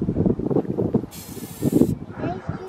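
A brief hissing spray burst from a spray paint can, nearly a second long, cuts in while people talk throughout.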